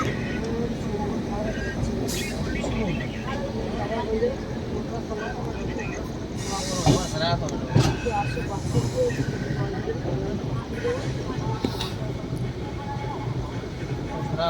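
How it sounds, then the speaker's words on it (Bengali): A train rumbles and hisses as it rolls into Pandit Deen Dayal Upadhyaya Junction at night, with brief metallic squeals and clatter, while people talk nearby. "ট্রেন ঢুকছে পণ্ডিত দীনদয়াল উপাধ্যায় জংশনে"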